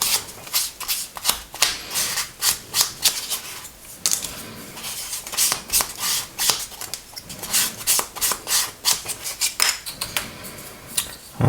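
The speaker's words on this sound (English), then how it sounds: "get a Tamiya sanding sponge and just tick around the edges like that" Rapid scratchy rubbing strokes of a sanding sponge on the edges of a plastic F-35B model kit, short bursts in quick succession with brief pauses, close up and fairly crisp.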